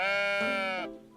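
A single drawn-out sheep bleat in a video game, close and clear, with a wavering tone that fades at the end.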